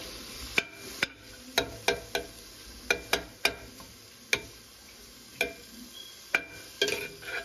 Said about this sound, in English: I'm gonna add the tomatoes now.